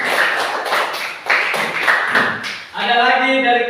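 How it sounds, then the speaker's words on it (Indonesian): Students in a classroom give a short burst of rhythmic clapping for a classmate, several sharp claps in quick succession, followed by a voice speaking right after the applause ends. "Tepuk tangan untuk si Bemo."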